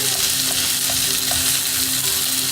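Onion tomato uttapam cooking on a hot pan, a steady, close sizzle and frying hiss that carries on evenly without a break, with no talking.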